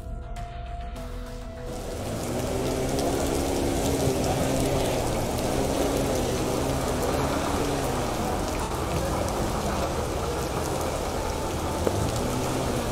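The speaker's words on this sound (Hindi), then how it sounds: "बारिश का मौसम है, बारिश हो रही है पूरे ज़ोर से" Heavy rain pours steadily at a farmers' protest site on the Delhi border, a dense, loud, continuous hiss that builds after the first couple of seconds and holds without pause.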